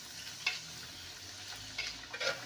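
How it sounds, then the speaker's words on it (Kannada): Sajjaka holige frying in hot oil over a wood-fired stove, a steady low sizzle with a few brief stirring scrapes and splashes, quiet and close with no voices. "ಬಿಸಿ ಬೇಯಿಸಿಟ್ಟಿರ್ತೀವಲ್ಲ ಇವ್ರನ್ನ ಎಣ್ಣೆ ಒಳಗೆ ಹಾಕಿ ಕರಿಯೋದು."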